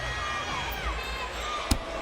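A college gymnastics arena crowd at a North Carolina versus LSU meet cheers steadily after an uneven bars dismount landing, a sustained roar with a sharp thump near the end and a voice faintly over it.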